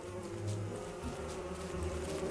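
Aggressive bees in the video game Don't Starve buzz steadily and continuously, a low droning hum that stays close and even throughout with no speech over it.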